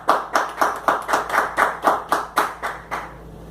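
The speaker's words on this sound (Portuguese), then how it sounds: "Novamente com a salva de palmas" Rhythmic clapping, about a dozen evenly spaced claps from a small group, close and clear with no talking.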